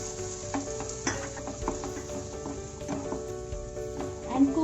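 Finely chopped onions frying in oil and butter on a tawa, giving a steady close sizzle with small crackles and occasional stirring scrapes throughout.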